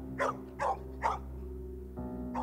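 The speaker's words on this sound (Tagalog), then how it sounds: "panay na ang tahol ni Bantay sa likuran ko" Dog named Bantay barking repeatedly behind someone walking home, in a Tagalog horror story: three evenly spaced, fairly loud barks, then a pause and a fourth starting, over a steady low hum in the background.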